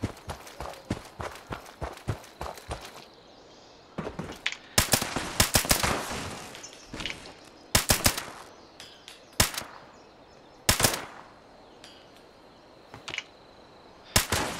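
Gunfire in Fallout 76 as ghouls are shot: rapid bursts of sharp shots early on, then scattered loud single and double shots spread over the rest, with faint background activity between.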